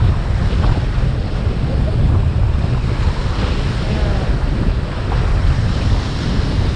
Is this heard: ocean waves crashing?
yes